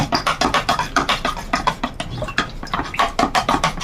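Homemade white phenyl is stirred briskly in a container, giving a fast run of rhythmic sloshing and clacking strokes that stays close and fairly loud throughout.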